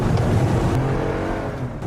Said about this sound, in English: makes it look like the car's engine is revving